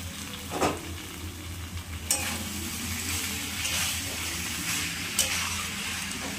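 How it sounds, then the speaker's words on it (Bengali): A spatula stirs ilish fish head with boiled banana flower in a sizzling pan, with steady frying hiss under scraping strokes and a few sharper knocks against the pan. "তারপরে খুন্তি দিয়ে ভালো করে মিশিয়ে দেব বন্ধুরা।"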